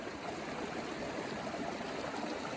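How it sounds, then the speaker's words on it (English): A small stream flows steadily in a faint, continuous wash of trickling water, with no voices or other distinct sounds. "It's only a little stream, nothing to it."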